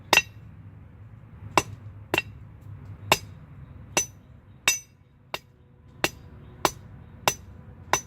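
A blacksmith hammers a taper onto a left-handed J hook, about a dozen sharp, ringing metallic strikes at an irregular pace over a quiet low hum, fairly close.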